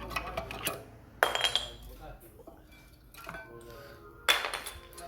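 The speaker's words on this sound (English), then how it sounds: "Take these pads off." Rear brake pads come off a 2013 VW Passat with intermittent metallic clinks and rattles and two sharper clanks, close by. Brief speech is heard in between.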